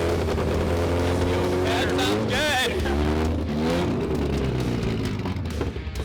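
A Ford Pinto in beautiful condition idles and runs steadily, a continuous low engine drone with a rev swell midway, close by, while people talk over it.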